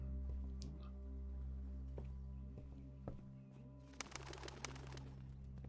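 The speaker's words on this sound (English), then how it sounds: "Flapping birds." Pigeons or doves in the game Blue Prince give soft low coos over a steady humming background, followed by a brief burst of fluttering wing flaps near the end, all fairly quiet.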